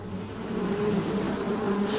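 A swarm of hornets buzzing in the video game Metal Gear Solid 3, a steady droning hum that wavers in pitch, fairly loud and continuous with no voices.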